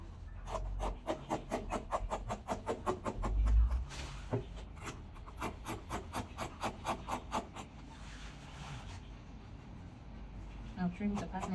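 Scissors cut out a fabric pattern piece for a sewing project with a rapid, rhythmic series of close, crisp snips, then a pause before more cuts, under quiet background noise.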